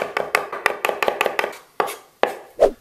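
Kitchen knife mincing a smashed garlic clove on a cutting board for homemade meatballs: a quick run of sharp, close chops, then a few slower, separated strikes.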